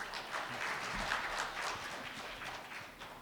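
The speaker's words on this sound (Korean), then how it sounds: "뜨거운 박수 부탁드립니다." Audience at a lecture on energy and ICT convergence claps to welcome a professor to the podium, a dense, moderately loud patter of many hands sustained evenly throughout.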